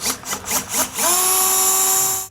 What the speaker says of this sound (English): So I'm gonna go ahead and drill this out.